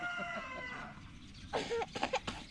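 A chicken at a family wedding gathering gives a few short, close clucks in quick succession after a stretch of low background hum.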